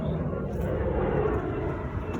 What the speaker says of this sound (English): Sorry for the jet flying by here.